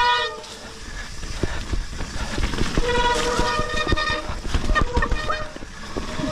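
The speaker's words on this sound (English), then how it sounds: "You can hear that in my brakes." Mountain bike disc brakes on a sloppy, wet trail, squealing in sustained high-pitched tonal whines that rise and fall over steady riding noise, close and fairly loud.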